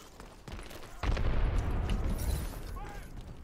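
Gunfire and explosions from the online shooter Dirty Bomb, a sudden loud burst of blasts and shooting about one second in that continues densely, with fainter shots before it.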